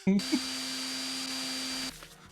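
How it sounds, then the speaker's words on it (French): A vacuum cleaner whirs with a steady high whine for a couple of seconds, then cuts off abruptly; brief voice sounds at the start. "Zut, l'aspirateur, j'ai oublié de l'éteindre."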